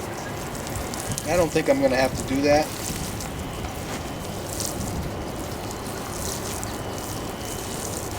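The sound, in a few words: water from a sprinkling head watering garden soil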